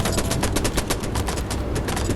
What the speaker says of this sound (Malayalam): എടാ ഞാൻ വെടി വെക്കുവാടെ ചൂച്ചുവിനെ